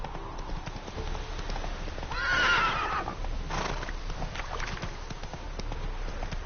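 Roach, the horse from The Witcher 3, clip-clops along and lets out a clear whinny in the middle, with a second shorter neigh following, all against a steady background of hooves and ambient game sound.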